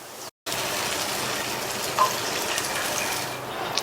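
Water is poured into a cup of ragi flour mixture for a spicy snack recipe. The steady, close splashing stream runs continuously after a brief pause at the start.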